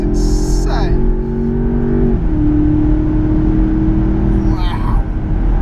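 A Land Rover Defender OCTA driven hard at high speed at the Goodwood Festival of Speed, heard from inside as a loud sustained engine drone with a shifting pitch, while occupants talk excitedly over it.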